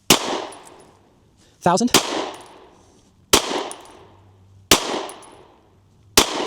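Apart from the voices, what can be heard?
micro pistol firing 9mm subsonic rounds, five-shot group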